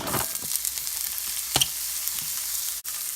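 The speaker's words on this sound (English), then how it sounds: "Got the bacon grease in. Now, let's get the onions and peppers in there." Onions and peppers fry in bacon grease in a cast iron pan with a loud, bright, steady sizzle, a few stirring clicks and scrapes close by, and no talking.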